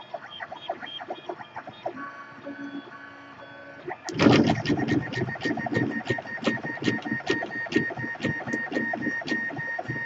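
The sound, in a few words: 3D printer printing calibration cube at high speed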